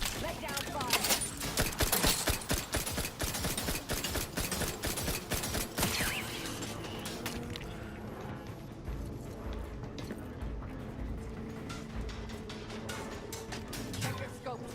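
Rapid gunfire crackles in dense bursts during a shootout in the video game The Outer Worlds, loud at first and then thinning out, with voices talking over the shots.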